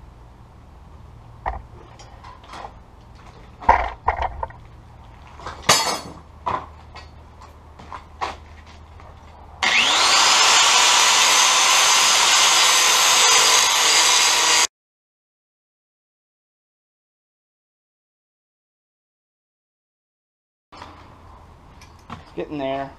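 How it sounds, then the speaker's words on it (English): An angle grinder cuts a saddle shape into a broken go-kart spindle, a loud continuous shriek lasting about five seconds, with scattered clanks and handling noises before it and a long silence after. "I'm going to kind of grind like a little a saddle out instead of just welding it on there."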